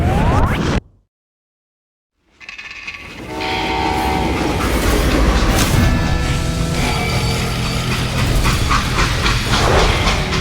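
A train in the Call of Juarez: Gunslinger video game comes in loud after a short dead gap, its steady rumble and rattle of cars rolling on, with horn-like tonal blasts near the start.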